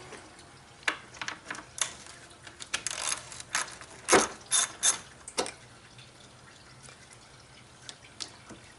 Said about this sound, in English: Now you can go ahead and start unbolting the radiator fan assembly. It's held in with three 10mm bolts along the top.